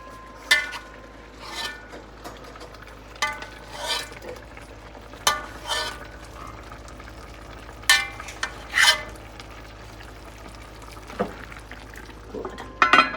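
Jamaican stew chicken simmering in a pot, with soft bubbling and intermittent stirring scrapes and clinks of a spoon against the pot across a quiet kitchen background.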